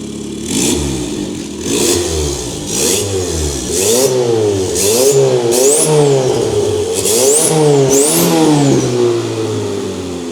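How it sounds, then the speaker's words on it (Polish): A turbocharged Fiat Seicento engine revs repeatedly up to the rev limiter, each loud rising blip bouncing off the cutoff and falling back, about nine bursts in a steady rhythm with no talking. "Zaraz mu damy do odciny."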